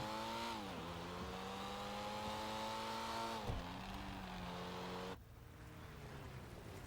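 The BF Weevil, a small rear-engined car in GTA 5, runs with a steady droning engine note that rises and dips in pitch as it revs, heard up close with no talking.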